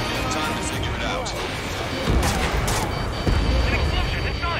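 Explosion in the Ace Combat 7 combat flight game, a dense rumbling blast layered over continuous battle noise with bursts of gunfire-like crackle, loud throughout with a heavier boom surge midway and another near the end.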